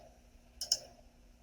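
A mouse clicks twice in quick succession, two crisp, close ticks against a quiet, faintly humming background.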